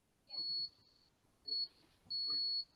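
The buzzer on a UKMARSBOT micromouse robot gives three steady high electronic beeps, the last one longest, with faint background murmur between them.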